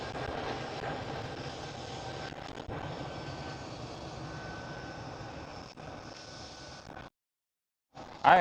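An SAS airliner rotates on takeoff at Schiphol airport, a steady distant jet roar with a faint whine that holds for several seconds before cutting off abruptly.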